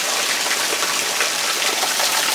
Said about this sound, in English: Pouring off the house down there.